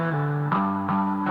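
A grungy, distorted chord progression in a hip-hop beat, produced for a track, is swept by a swirling flanger. Chords shift about every half second in a loud, sustained, buzzy tone with no talking.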